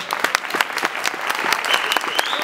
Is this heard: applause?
yes